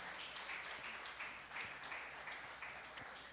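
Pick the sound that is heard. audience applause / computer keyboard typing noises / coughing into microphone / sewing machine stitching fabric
audience applause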